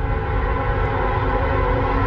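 Westbound Norfolk Southern or CSX freight train passing in New Jersey, a loud continuous rumble with steady tonal hum, close by and uninterrupted.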